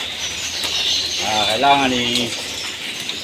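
Pigeons coo at feeding time, a soft, low, rolling call heard close by beneath a voice.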